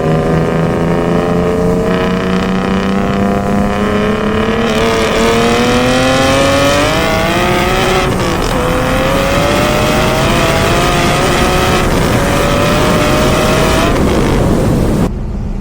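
A single-turbo BMW F80 M3 pulls hard from a 40 mph roll, its engine droning loud and steady as the pitch climbs through long gears with short breaks at each shift, heard from inside the car.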